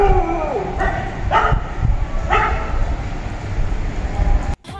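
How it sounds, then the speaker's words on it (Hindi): Dogs barking outdoors at dawn during the Fajr call to prayer, several sharp barks and yips spaced about a second apart, fairly close and loud, with a whimpering tone and a sudden cutoff at the end. "जब फजर की अजान हो रही थी तो कुत्ते भौंक रहे थे।"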